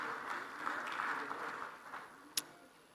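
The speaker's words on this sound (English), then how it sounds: "let's please give our panel a final round of applause as they descend stage" An audience at an energy summit of African heads of state gives the panel a round of applause, a faint, even patter of clapping that gradually thins out, with a sharp click near the end.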